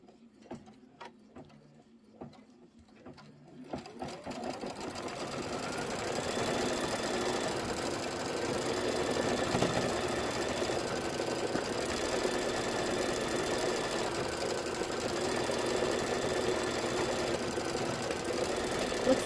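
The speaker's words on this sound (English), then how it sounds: "Now it's going to be doing the quilting" Embroidery machine quilting pinwheel blocks, starting with a few scattered clicks before settling into a steady, fast mechanical stitching hum that runs for many seconds without talk.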